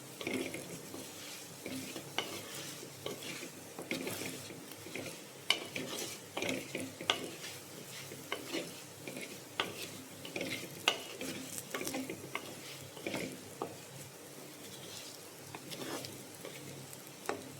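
Easter-special vatta fish curry is stirred in a pan, with a spoon scraping and clinking against the metal in an irregular rhythm over a soft, constant sizzle, close and fairly quiet.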